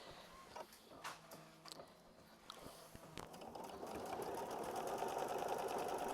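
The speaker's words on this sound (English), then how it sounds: "So we are going to go repeat machine stitch step 7." Sewing machine stitching fabric, starting with a few faint clicks and adjustments, then running in a steady, close, whirring mechanical rhythm that grows louder and continues to the end.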